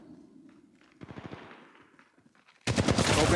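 Gunfire in the mobile shooter Apex Legends Mobile: a quick burst of rapid shots follows a quiet start, then a loud, dense stream of automatic fire bursts in close at the end.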